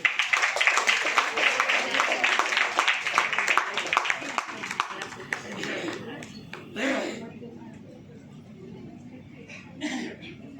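Loud audience applause in a hall as a schoolgirl comes up to speak at a Tamil literary event, dense rapid clapping that thins out and fades after about six seconds, leaving scattered claps and murmuring.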